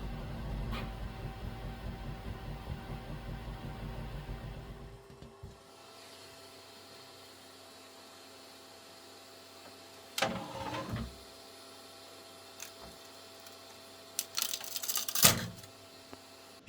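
A QIDI Q2 3D printer runs a print job. A steady low mechanical hum fades after about five seconds into quieter motor whirring, with a few short louder buzzing bursts near the end. No one speaks.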